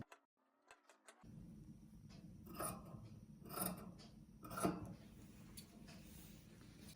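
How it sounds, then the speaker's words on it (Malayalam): Scissors snipping through folded fabric being cut for a cape frock, three or four close, crisp cuts after a brief quiet start, with faint light handling noise between them. "അപ്പം ഞാൻ ഇത് കട്ട് ചെയ്ത് കൊടുക്കുകയാണ്."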